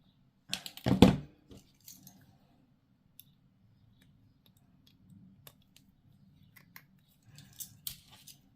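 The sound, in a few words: cutting a plastic Death Guard miniature part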